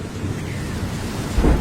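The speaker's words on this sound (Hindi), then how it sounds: "चील भाई, बाहर बहुत तेज बारिश हो रही है।" Heavy rain pouring down in an animated story, a dense, steady roaring hiss with a low rumble of thunder swelling near the end.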